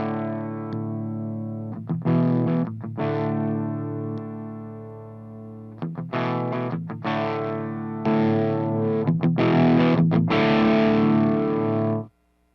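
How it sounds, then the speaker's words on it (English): An electric guitar runs through a Redseven Alkemy overdrive pedal toggled between normal and fat modes, with loud distorted chords ringing out in several bursts separated by brief gaps, then stopping abruptly. "I'll turn the pedal on and off in the different modes so you can hear what they do."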